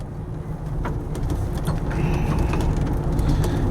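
1996 Winnebago Volkswagen Class B RV driving on the road, a continuous low cabin rumble with light mechanical rattles and ticks, growing slightly louder.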